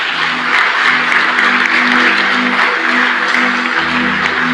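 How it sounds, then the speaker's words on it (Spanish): A church congregation applauds loudly and steadily after a prayer, a dense, continuous wash of clapping that fills the whole stretch, with a low hum running beneath it. "Dale un fuerte aplauso, hermano"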